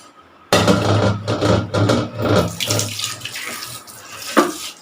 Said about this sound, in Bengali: এখন মাংসটা সিনের ভিতরে ঢেলে দেব এখানেই ধুব